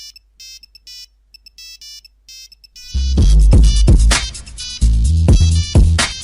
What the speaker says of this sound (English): that stupid ringtone